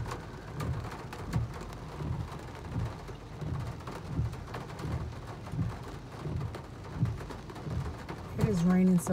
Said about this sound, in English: Raining so bad out here.